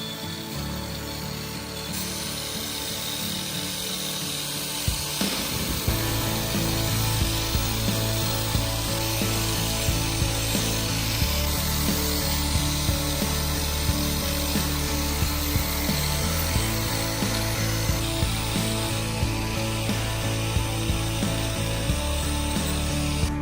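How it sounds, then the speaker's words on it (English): Grinding wheel for ceramic tiles working along clinker facade tiles on thermal panels, a steady loud mechanical whine with a low rumbling drone that holds continuously throughout, with faint rattling ticks and no voices. "We minimize chips on the tile with the help of the grinding wheel for ceramic tiles."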